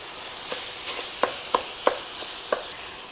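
Ground beef and onions sizzle quietly in a pan while a spoon stirs them, giving several sharp scrapes and taps over a steady low frying hiss.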